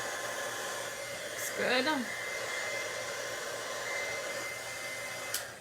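An embossing heat tool blows a steady, loud whooshing hum while melting embossing powder on a stamped card, running continuously as someone briefly speaks over it.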